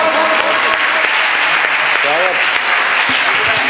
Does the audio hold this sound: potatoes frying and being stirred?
no